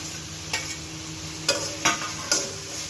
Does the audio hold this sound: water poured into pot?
no